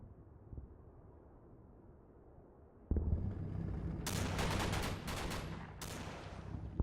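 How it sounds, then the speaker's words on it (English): Mortar fire in the World War II video game Combat Mission: Battle for Normandy, heard as a deep thump and then a run of several loud, sharp blasts and rumbling impacts against a low background drone. "I think I'll use the rest of the mortars on them."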